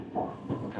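An SBB Intercity or TER Corail passenger train running along the rail line in Alsace, a steady low rumble of wheels and carriage noise heard from on board, fairly close, with no speech over it.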